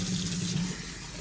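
Steady stream of running cold tap water splashing into a sink while rinsing watermelon rind, with a faint low hum underneath.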